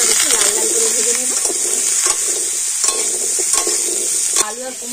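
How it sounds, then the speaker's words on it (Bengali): Potato and pumpkin chunks fry with turmeric in a kadai, a steady loud sizzle broken by repeated scraping stir strokes at an even rhythm, with a faint voice briefly underneath. "হলুদ দিয়ে আলু আর কুমড়োটা একটু লাল লাল করে ভেজে নেব।"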